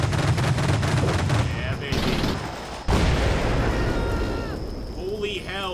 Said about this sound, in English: Weasel is getting some shots.